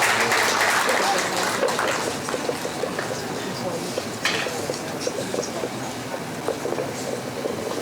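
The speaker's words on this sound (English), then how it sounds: "Please, let's encourage him with our applause" Applause from an audience at a formal Nigerian government signing ceremony between the FG and ASUU, a dense steady patter of clapping filling the room, loudest at first and continuing throughout.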